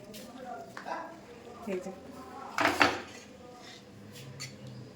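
Pots and pans clink and clatter in a home kitchen as curry is cooked, a few scattered close knocks with one louder clang, under a person's talk.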